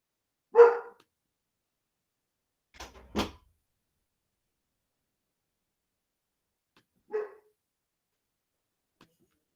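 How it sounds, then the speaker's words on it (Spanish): A dog barks at a neighbour in short separate bursts: one sharp bark, a quick double bark a couple of seconds later, then a single bark after a long pause, each fairly close and with quiet between. "el caos canino que mi perro decidió ladrarle al vecino"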